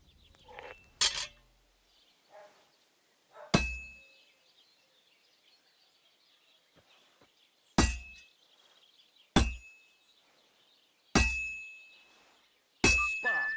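Metal hammered on an anvil at a blacksmith's forge in the video game Kingdom Come Deliverance II, with six sharp ringing clangs spaced several seconds apart, each followed by a fading metallic ring over near silence.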